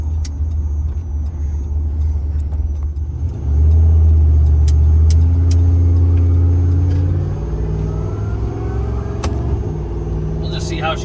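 A turbocharged LS-swapped Ford Crown Victoria accelerates in second gear from about 30 mph, its engine rumble rising in pitch and loudness and then easing off, heard from inside the car.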